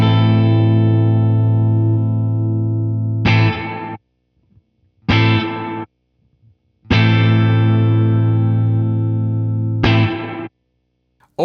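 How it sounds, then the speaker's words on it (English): Sustained electric guitar chords through the gated reverb mode of an Electro-Harmonix Oceans 11 pedal, a lush reverb tail that cuts off abruptly each time, leaving sharp silences between bursts in a repeating on-off pattern. "Red mode is a gated mode, so reverb is only there when the input signal is above a certain level."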